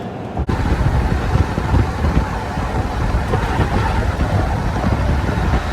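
A pickup truck driving at about 50 mph over a railroad track, with a loud continuous rumble of road and wind noise throughout and a sharp brief thump near the start as the wheels strike the rails.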